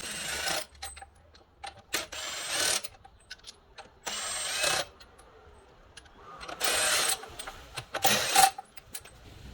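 Wrench working 21 mm lug nuts off the wheels of a 2017 Nissan 370Z, with intermittent bursts of ratcheting and clattering metal separated by quiet gaps.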